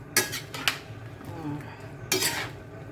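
Pancit bato noodles stirred in a pan, with a couple of scraping utensil clinks against the metal and a soft background rustle, close and fairly quiet.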